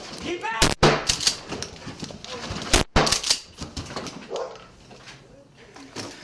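Dogs bark during a police raid on a Detroit home, sharp loud bursts amid shouting officers and clattering movement, with a couple of very loud impulsive bangs like gunshots cutting through the chaos.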